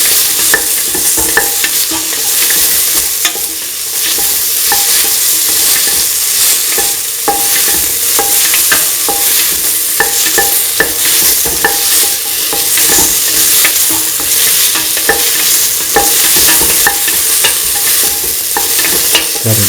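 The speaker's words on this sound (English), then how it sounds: "Mix the tomato pieces with the rest of the mixture." A spoon stirs tomato pieces into a lentil and ground coconut stew frying in a pan, with a steady loud sizzle and repeated scraping knocks throughout, no voices.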